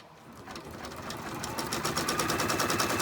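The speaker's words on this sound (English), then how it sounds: "Now, we're going to let that stitch out." A Brother Persona PRS100 embroidery machine sews a tack-down stitch on a snap tab keychain, its rapid, even needle rhythm swelling steadily louder and running alone with no voices.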